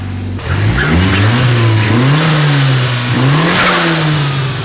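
A car engine revs hard through a loud exhaust, rising and falling in pitch twice, close and aggressive with a strong low rumble.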